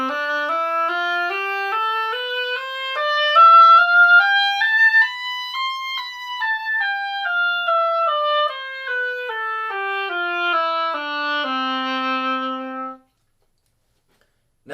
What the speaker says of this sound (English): So first, let's try all 8th notes, and that would sound like this.